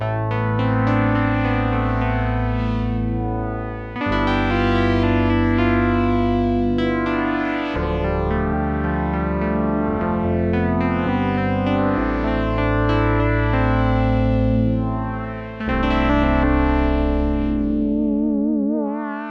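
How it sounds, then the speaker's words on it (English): Vintage-style synthesizer keys on a Sequential Prophet 6 play sustained chords with a warm, slightly wobbling tone, changing every few seconds and ending in a rippling vibrato. "This is just kind of a vintage styled key sound."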